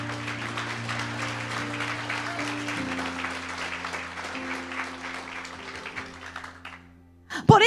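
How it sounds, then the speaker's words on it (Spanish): A church congregation applauds during a Spanish-language sermon, a steady wash of clapping over sustained low music tones that fades out toward the end, followed by a brief louder burst. "dale ese aplauso a Cristo"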